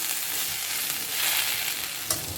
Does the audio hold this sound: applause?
no